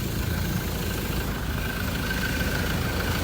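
A 2012 Ford Ranger XLT engine with about 150,000 km on it idles steadily, a constant, even hum with a faint whine over it and no changes in revs.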